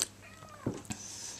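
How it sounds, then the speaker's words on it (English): A house cat gives a couple of short, faint meows close by in a quiet room, each one brief and light. "My cat's talking to me."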